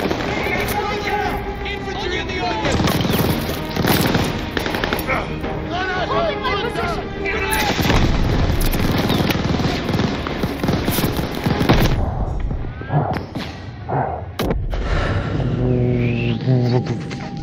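Machine gun fire in a Call of Duty Vanguard campaign battle, with an MG nest and a tank nearby: dense, continuous rattling bursts and explosions fill a loud chaotic soundscape, while voices shout over the din.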